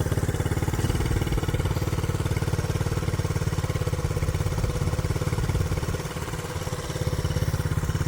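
A 1967 Honda CT-90 trail motorcycle engine runs close by with a steady, even mid-pitched throb throughout, dipping briefly before picking back up.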